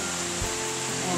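Running water of a waterfall at an outdoor pavilion among greenery, a steady broadband rushing wash heard close and continuous, with a brief low thump partway through.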